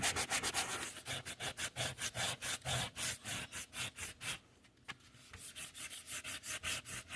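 Glossy magazine pages are sanded by hand to knock off their sheen, a close, rhythmic back-and-forth rasping with a brief lull near the middle before the strokes resume; no voices.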